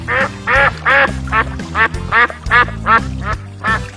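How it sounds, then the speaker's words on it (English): A cartoon duck in a children's animal cartoon quacks about ten times in an even, rapid rhythm, loud and close, with light music playing beneath. "Duck."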